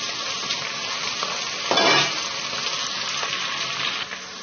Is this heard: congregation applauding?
no